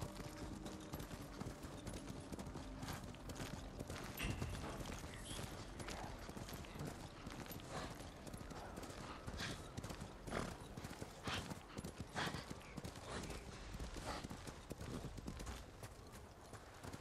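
Horse hooves clip-clop steadily throughout, with a whinny among the hoofbeats in the video game Ghost of Tsushima, set against a continuous busy game soundscape.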